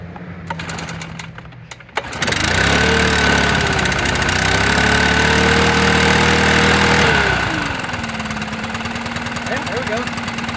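A brand-new Stihl leaf blower engine catches and roars to a steady, loud two-stroke drone for several seconds, then drops back to a lower idle, with a few clatters of the starter pull before it fires.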